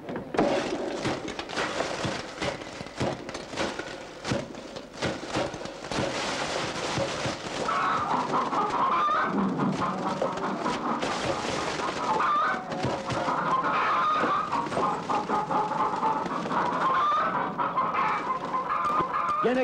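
Chickens cluck busily in a farmyard in a Turkish film, close and continuous, with a rooster's crow rising partway through amid the steady flock noise.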